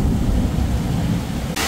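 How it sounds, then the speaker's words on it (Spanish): Thunder rumbles low and steady through a heavy storm with hail over a Havana neighbourhood, a continuous loud roar with rain, ending in a brief sharp hiss. "Y con truenos y todo."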